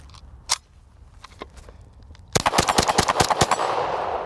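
A Glock pistol fitted in a Meta Tactical MX-1 chassis fires one early shot, a few scattered pops, then a rapid string of about ten close, sharp reports in quick rhythm, ending in lingering outdoor echo.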